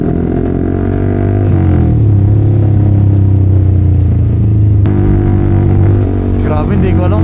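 A two-cylinder motorcycle engine on a group ride runs loud and steady with a strong low drone, its pitch dropping and rising with gear changes, plus wind and road noise. Voices talk over it.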